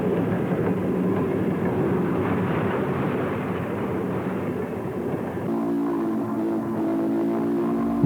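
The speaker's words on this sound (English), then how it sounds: "A PA 213 powered number 4 passes over the steel trestle at Oakvale on July" Virginian Railway train number 4, pulled by PA 213, rumbles loudly across a steel trestle at Oakvale, a continuous heavy roar that shifts to a steadier droning hum midway, with no voices.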